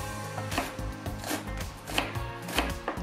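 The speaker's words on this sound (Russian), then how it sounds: "Берем пекинскую капусту и нарезаем очень мелко." Rapid rhythmic knife strokes finely chop crisp napa cabbage on a cutting board, steady close-up taps with a crunchy edge, no talking.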